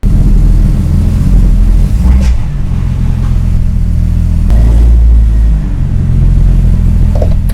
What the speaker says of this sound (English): go ahead and pull in your vehicle and support it securely on top of some ramps